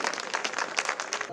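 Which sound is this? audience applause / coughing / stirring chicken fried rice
audience applause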